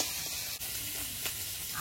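River fish frying in oil in a pan, a steady soft sizzle running throughout at close range with no voices.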